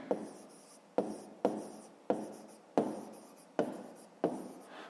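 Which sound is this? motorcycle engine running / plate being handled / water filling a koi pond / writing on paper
writing on paper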